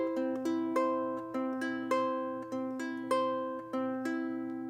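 Ukulele fingerpicked in a steady triple pattern for a song, with clear plucked notes ringing close and evenly over a sustained low drone, played alone without talk.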